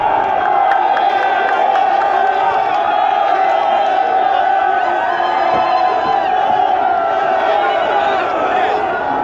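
A large crowd in Kinshasa cheers and shouts for Martin Fayulu's return, a dense, continuous roar of many voices with whoops, loud and sustained throughout.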